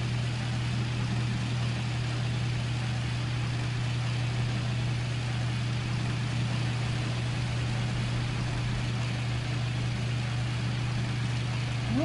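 A big rig truck engine drones steadily while driving in 18 Wheels of Steel Across America, a constant low hum with road rumble that holds level throughout and never shifts.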